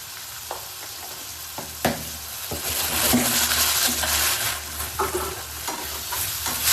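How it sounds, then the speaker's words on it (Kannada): Tomato masala with salt and turmeric frying in a pan for mushroom sukka: a close, steady sizzle broken by scraping stirs and spoon clicks against the pan, with no voices. "ಇವಾಗ ಟೊಮ್ಯಾಟೊ ಫುಲ್ಲು ಸಾಫ್ಟ್ ಆಗಬೇಕು, ಅಲ್ಲಿವರೆಗೂ ಇದನ್ನ ಕ್ಲೀನ್ ಆಗಿ ಫ್ರೈ ಮಾಡ್ಕೊಳ್ಳೋಣ."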